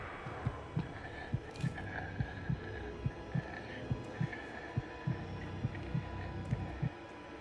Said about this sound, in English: I wish my heartbeat would stop.